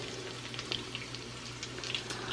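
Chicken pieces fry in a pan until crispy, a faint, soft sizzle with scattered small pops over a low steady hum.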